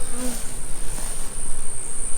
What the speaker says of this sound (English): Look, we got some bees around the front.